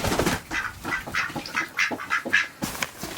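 Ducks quack repeatedly in a busy, overlapping chorus nearby, with splashing and farmyard bustle throughout.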